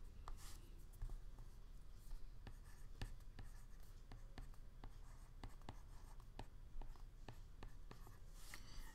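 A pencil writes an equation on paper. The soft, scratchy strokes and light taps are faint and close, in an irregular rhythm over quiet background hiss.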